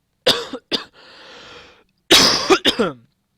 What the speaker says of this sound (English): guys are going to have to forgive me for my cough.